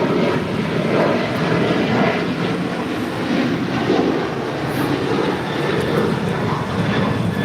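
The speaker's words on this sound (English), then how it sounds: "This is Alaska 1083 taking off to Seattle on a 737-900 ER." An Alaska Airlines Boeing 737-900 ER takes off from LAX, producing a sustained, rumbling engine roar that swells and wavers at a middle distance, heard alone without talk.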